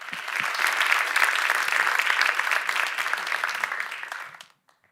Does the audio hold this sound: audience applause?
yes